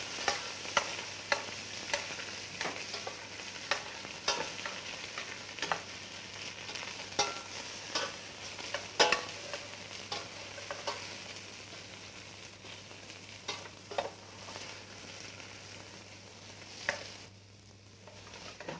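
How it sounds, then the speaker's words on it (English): Diced celery root and onion sauté in a pan after oxtail browning, giving a steady close sizzle broken by repeated stirring scrapes and clicks, continuous for most of the stretch before easing off near the end. "Diced celery root and onion are also sautéed."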